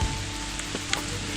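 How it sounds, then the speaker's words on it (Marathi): Heavy rain pours in a jungle near Shivarba as a dense, continuous hiss. A few louder drop taps stand out briefly, and no one speaks. "पाऊस खरंच आला आहे"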